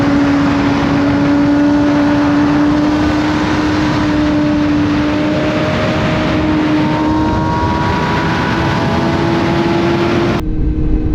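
A Kawasaki ZX4RR motorcycle engine while riding, a loud steady high-revving whine that slowly rises in pitch under constant wind roar. It cuts off sharply near the end.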